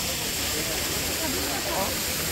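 The Ryumon waterfall on the grounds of Kinkaku-ji temple in Kyoto gives off a constant hissing rush of falling water, steady and moderately loud, with faint voices audible underneath.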